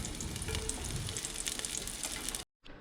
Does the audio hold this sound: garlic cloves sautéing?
yes